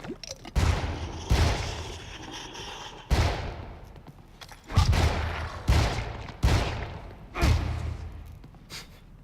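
Gunfire in The Evil Within booms as a series of loud, separate shots at uneven intervals. Each heavy blast is followed by a short decaying tail.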